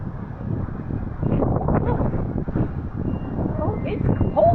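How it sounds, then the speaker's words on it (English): Cold gusty wind buffets an outdoor microphone beside a pool as a cold front moves through, a loud low rumbling roar that runs throughout, with people talking over it. "Oh, it's cold wind."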